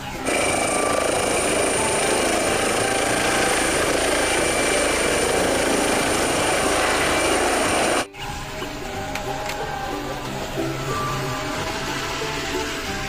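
A toy helicopter whirs loudly and steadily with a high mechanical whine for about eight seconds, then cuts off abruptly, leaving a quieter rattling hum.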